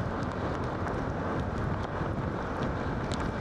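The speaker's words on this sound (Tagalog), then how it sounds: "Lakas ang hangin." Strong gusts buffet the microphone in a steady, loud rumbling roar that fills the whole clip, ahead of an approaching rainstorm with blowing dust, and no one talks over it.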